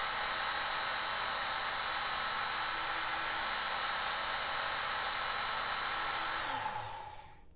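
A Work Sharp Ken Onion Edition belt sharpener grinds a knife edge with a steady, close, high-pitched whirring drone that holds for several seconds, then spins down and fades at the end.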